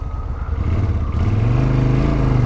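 A 1996 Suzuki Intruder 800 custom motorcycle engine rumbles close by with a steady, throbbing low pulse that rises slightly in pitch partway through, running alone without voices.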